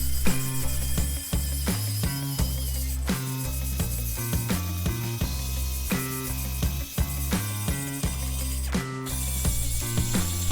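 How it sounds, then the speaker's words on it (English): A carbide burr grinds rust and corrosion off the steering knuckle of a 2017 Subaru Crosstrek, a close, continuous rattling mechanical whir with a steady repeating pulse. "I'm now cleaning the steering knuckle with a carbide burr, making sure to only remove rust and corrosion"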